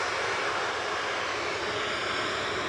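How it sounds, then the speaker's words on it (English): A Ryanair jet departs Manchester Airport for Brussels Charleroi with a broad, steady roar of engine noise that holds loud and constant throughout. "That was Ryanair to Brussels Charleroi departing"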